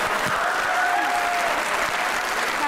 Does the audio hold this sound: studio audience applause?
yes